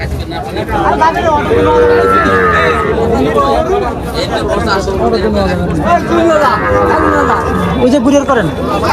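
Cattle low repeatedly at a busy cattle market in Faridpur, long moos rising over constant crowd chatter and nearby talking voices.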